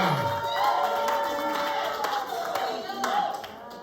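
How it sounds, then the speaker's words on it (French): Wedding guests clap and cheer for the couple during a church marriage blessing, a sustained burst of applause mixed with shouts and overlapping voices throughout. "Acclamez très fort pour"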